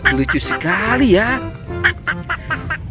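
A duck quacks in a series of short, nasal calls, close by and mixed in with a person's excited talk throughout.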